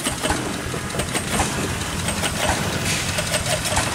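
An antique generator engine powering a 1900 carbon arc lamp runs steadily at close range, a continuous rumbling chug with faint mechanical clatter throughout and no voices.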